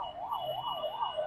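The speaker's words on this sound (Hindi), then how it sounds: "फिर एक और एम्बुलेंस, एक और एम्बुलेंस" An ambulance siren wails in a steady rising-and-falling pattern amid a traffic jam on a pothole-filled road at the Lav-Kush crossing, loud and continuous with no talk over it.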